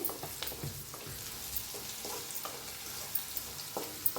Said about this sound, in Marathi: आता टाकूया अर्धा चमचा हळद त्याला भाजून घेऊया चांगलं हळदीला